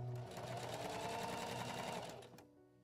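A sewing machine stitches gathered one-inch lace trim around the collar and sleeves of a Victorian bodice, running in a steady, close, continuous whir for over two seconds before stopping abruptly.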